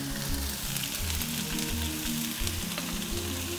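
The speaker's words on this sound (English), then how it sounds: "Then you just let this fry." Ingredients for a chicken stir fry frying in a pan, giving a loud, continuous crackling sizzle throughout with no voices.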